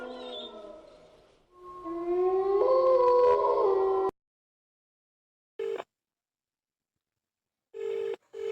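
A telephone rings unanswered with a melodic electronic ringtone that plays for a few seconds and then cuts off abruptly. Two short, separate ring bursts follow after gaps of silence.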